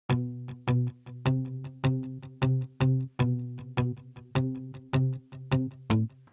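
A plucky synth line plays within a beat, its short, bright, decaying notes repeating in a steady rhythm over a low bass pulse, clear and alone without talk.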